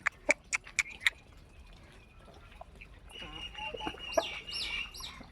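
Several sharp clucks from nearby chickens in quick succession, then a busier stretch of scratchy bird calls and rustling, with voices in the background.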